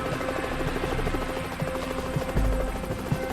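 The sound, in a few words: helicopter of the Marine One squadron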